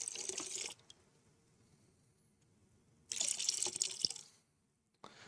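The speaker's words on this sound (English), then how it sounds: "So I'm going to get 3 ounces of my sanitizer into here." Sanitizer poured into 3 gallons of water for cleaning, two close bursts of splashing liquid pouring separated by quiet pauses, with a short final splash at the end.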